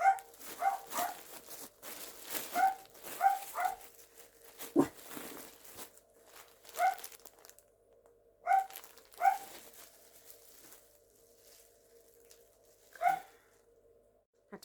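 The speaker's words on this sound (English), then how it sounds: "Had to pause for more barking" A dog barks repeatedly indoors in short clusters of sharp barks with pauses between, moderately close but not loud, with a few whimpers and some rustling.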